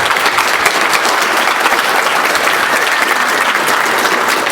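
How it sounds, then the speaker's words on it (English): A conference audience gives sustained, loud, dense applause for a speaker at a talk on event-driven architecture, steady clapping throughout with no voices. "Please give a warm applause to Glyph."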